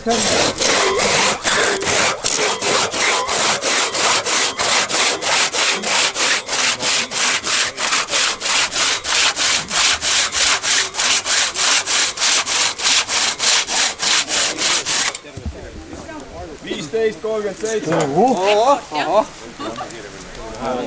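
Hand saw cutting through wood in a timed sawing contest at an Estonian forest day event, with fast, steady back-and-forth strokes for about fifteen seconds, then stopping as voices and crowd noise continue.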